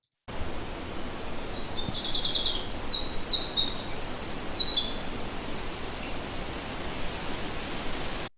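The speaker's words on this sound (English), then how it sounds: "If you learn that song, you've learned the winter wren song" A winter wren sings a long, rapid, tinkling song of high trills and twitters in several bursts over steady background hiss, with what sounds like crickets or insects chirring along.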